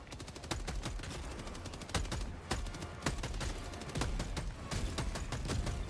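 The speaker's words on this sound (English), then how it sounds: "Firing orbital barrage" Rapid barrage of orbital strike explosions in the video game Helldivers 2, a dense run of sharp blasts and booming impacts firing repeatedly and loudly throughout with no pauses.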